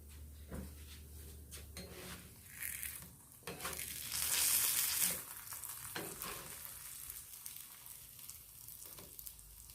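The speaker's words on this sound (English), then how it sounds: "on this one you use a little bit of oil because it's going to be kind of like a fry bread" Fry bread sizzles in a little oil in a pan, a faint steady frying hiss with scattered clatters of a utensil and a louder sizzle burst near the middle, no one speaking.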